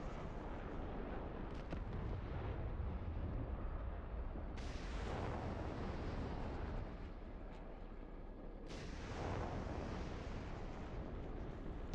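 In the DCS combat flight game, missiles fire and explode as loud, broad bursts that roar and then slowly decay. Two main blasts come several seconds apart, with no talk.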